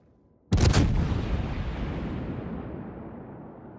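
Warship main guns firing in the naval video game World of Warships, a single sudden loud blast followed by a long rumbling decay that fades over several seconds.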